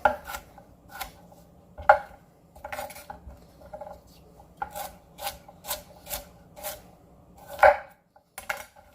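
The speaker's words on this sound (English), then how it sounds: "So I usually cut this one about half the size of the normal piece of potato" A knife chops potatoes into small pieces on a cutting board, with irregular crisp taps and scraping strokes, some in quick runs and others spaced apart, close and moderately loud with no talking.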